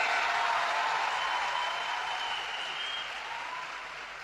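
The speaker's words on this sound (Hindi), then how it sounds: "तो एक बार जोरदार तालियां देश के प्रधानमंत्री नरेंद्र मोदी जी के लिए" Sustained crowd applause for Prime Minister Narendra Modi at a Delhi public event, a dense steady roar of many hands clapping that tapers slightly toward the end, with no voices over it.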